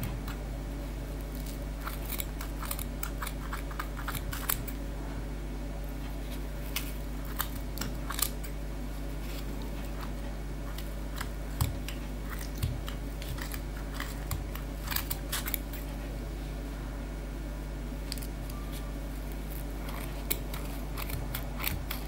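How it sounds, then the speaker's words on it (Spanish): Scissors snip steadily through wool yarn sandwiched between two cardboard pieces while a pom-pom is made, producing a run of short, crisp cuts at close range over a low constant hum, with no talking. "pasar las tijeras por en medio de los dos cartones e ir cortando la lana"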